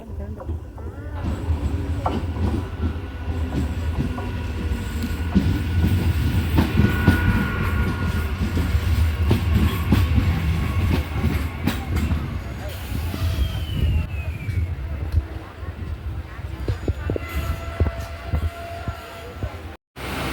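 A train runs along the rails between Alappakkam and Chidambaram, its steady rumble and rhythmic clatter heard from on board for the whole stretch, with occasional squeals and people talking underneath.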